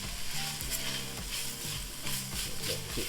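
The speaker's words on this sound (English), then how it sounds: "This was 4 medium-sized garlic cloves that I minced. Stir that around." Four minced garlic cloves stirred around in a hot pot for white chicken lasagna soup, with a close, steady sizzle of frying broken by soft spoon scrapes and knocks against the pot.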